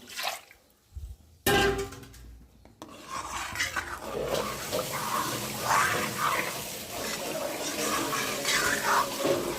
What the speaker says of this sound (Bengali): ডালের মধ্যে একটু জল দিয়ে দিলাম।